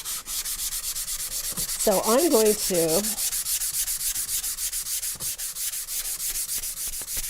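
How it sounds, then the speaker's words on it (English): A small hand-held sander works steadily over painted wood and chicken wire, giving a continuous buzzing, scratchy rasp with a fast pulsing rhythm throughout, while someone speaks briefly over it. "give that a good sanding."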